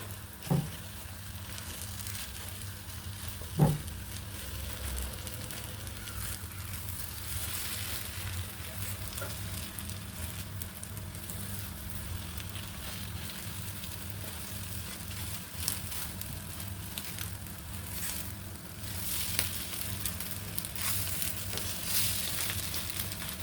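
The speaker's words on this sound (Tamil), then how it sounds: "அப்படியே வறுத்து எடுத்துருவோம்" An omelette fries in a pan with a soft, steady sizzle that holds evenly throughout, broken by a couple of faint knocks and clatters near the start and no talking.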